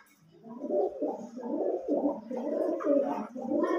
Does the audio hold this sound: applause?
no